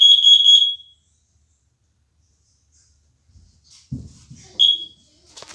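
Home smoke alarm sounding during a test: a loud, shrill high-pitched beeping burst opens the clip, then falls silent, followed by handling noises and one more short chirp near the end.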